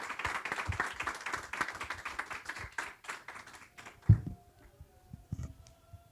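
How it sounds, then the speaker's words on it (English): Audience applause at a floorball event, dense clapping for about four seconds before it thins to scattered claps and a few knocks, with faint voices in the background. "let's give a huge round of applause for both Jon and Andreas"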